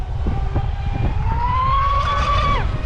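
An 8S RC boat's 1800kv motor with a Castle XLX2 controller whines as the throttle is eased on. The pitch climbs, holds high for about a second, then cuts off abruptly over a low, rumbling background.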